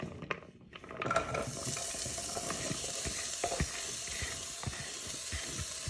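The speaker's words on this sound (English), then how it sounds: "Now you want to start frying your peppers and onions." Vegetables sizzle and crackle in a pan, with scraping and stirring clicks over a steady frying hiss.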